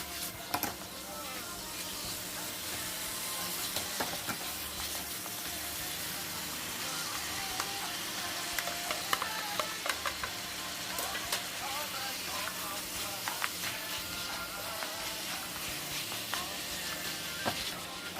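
Meat stir-frying over high heat with potato, carrot, onion and red or green cabbage for a healthy jjajang sauce, giving a steady dense sizzle with occasional scraping clicks throughout, no talk.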